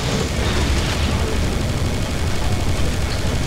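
Cannon fire in the shooter Serious Sam: BFE blends into a continuous, loud roar of booming blasts and chaos with no clear separate shots.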